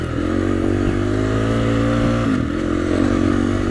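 A 250 motorcycle runs steadily while being ridden, its engine drone close and loud with a constant throbbing pitch that dips briefly before settling again, with no talking.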